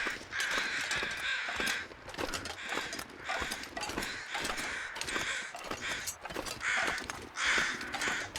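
A large flock of crows caws continuously, many overlapping harsh calls in two groups, loud and busy over a rough outdoor background.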